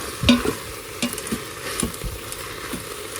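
Seasonings with thyme sauté in a pot for a wild game stew cooked in a parking lot, a close crackling sizzle punctuated by several quick scrapes and knocks of a utensil against the pot.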